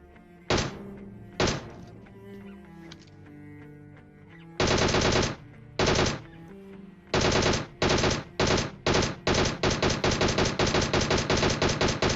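Gunfire from the mobile battle-royale game PUBG Mobile, played on an iPad: a few single loud shots, then a pause, then a longer run of rapid, evenly spaced shots that quickens into a steady automatic burst over faint game ambience.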